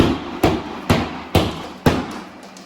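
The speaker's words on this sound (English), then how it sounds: "working on tearing out the drywall and the rotten stuff" Moldy drywall is torn out of a basement, with four sharp, evenly spaced whacks and cracking impacts about half a second apart, close and loud against a quiet room.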